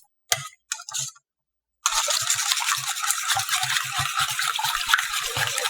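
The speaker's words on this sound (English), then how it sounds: "So I'm just going to use a whisk, beat that all together." Whisk beating egg batter with a little fresh fruit in a relatively small bowl for whole wheat French toast. Two brief taps come first, then a steady, fast, close scraping and clatter that runs without a break to the end.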